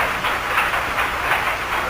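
A train is made up in a rail yard, heard as a loud, steady rumble and roar of rolling railcars with faint rhythmic clatter throughout.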